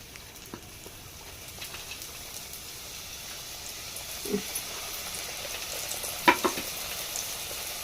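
Egg and veg puffs deep-frying in hot oil, a soft steady sizzle with a few faint clinks and stirring noises at moderate distance, no voices.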